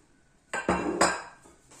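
Brownie batter is stirred in a bowl, with a couple of close clinks and scrapes of the utensil against the bowl followed by a fading rustle, brief and fairly loud.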